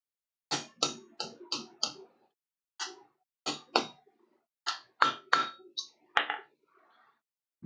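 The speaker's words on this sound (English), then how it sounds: "I'm just going to do some light hammer texturing on it." A hammer lightly textures a piece of metal at a forge. The sharp ringing strikes come in quick bursts of four or five, separated by short pauses, and the sound is close and clear against silence.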